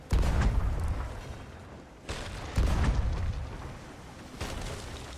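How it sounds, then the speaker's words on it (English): Ship cannons fire in a video game as three heavy, booming blasts spaced a couple of seconds apart, each with a long rumbling decay, loud and close. "Someone pop off a shot on the cannon."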